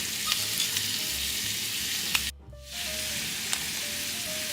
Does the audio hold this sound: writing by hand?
no